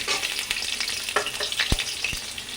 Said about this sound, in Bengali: করলাগুলো হালকা করে ভেজে নেবো।